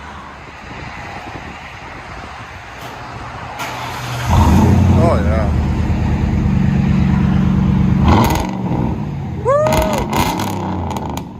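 A 2005 Mercury Grand Marquis 4.6L V8 with true dual straight-pipe exhaust and 3.5-inch stainless tips idles, then roars into a loud, sustained rev with a rough, deep rumble that drops back to a fluttering idle. Short excited shouts break in near the end.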